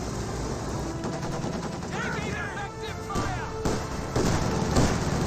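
MG34 machine gun fire and other battle sounds in Company of Heroes 2, dense rattling bursts over constant combat noise, with a voice briefly talking over the mix.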